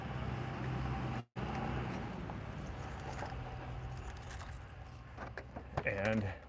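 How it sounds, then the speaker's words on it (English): Keys jangling close by while someone digs them out beside a packed van at an outdoor flea market in Springfield, Ohio, a brief metallic rattle with faint road traffic behind. "there might be a noise here while I get my keys."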